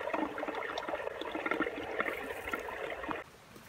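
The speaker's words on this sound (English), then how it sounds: "The water just rushing down the hill, but all in the rock wall into the brook." Water rushing steadily down a hillside along a rock wall into a brook, a continuous near broadband wash and gurgle that drops away abruptly near the end.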